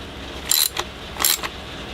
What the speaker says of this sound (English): Let's put our nut and washer back on and we're ready to go back together.